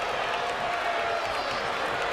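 Wrestling arena crowd in the WWE 2K22 video game, a steady dense roar of cheering and applause that holds at full loudness throughout with no break.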